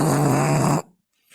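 A loud, drawn-out nasal snore with a horn-like droning tone lasts under a second and then cuts off into near silence.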